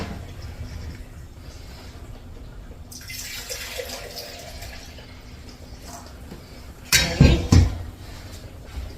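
Tap water runs steadily in a sink while dyed yarn is rinsed out, with a louder splashing swell in the middle and a few brief clattering knocks near the end.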